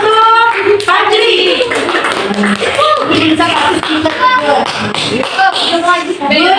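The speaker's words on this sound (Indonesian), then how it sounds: "Tepuk tangan untuk Fajri" Classmates clap for a pupil named Fajri in a classroom, a burst of hand claps mixed with children's voices and chatter throughout.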